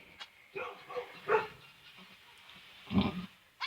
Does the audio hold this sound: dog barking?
yes